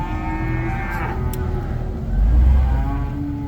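Cattle low and moo loudly nearby, a deep drawn-out call rising toward the end over faint background noise.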